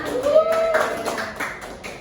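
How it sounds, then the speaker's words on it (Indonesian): Students applauding a classmate in a high school geography classroom, a brief patter of scattered hand claps from a small group, mixed with a voice speaking over it. "Coba kasih aplaus dulu teman-temannya"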